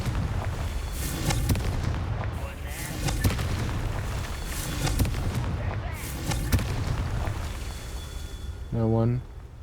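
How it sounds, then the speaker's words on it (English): Confringo spell blasts from Hogwarts Legacy boom repeatedly in a steady series of loud bursts over a dense game soundscape, with a voice speaking over them. "Yeah, Confringo, and then you Confringo again to blow it up."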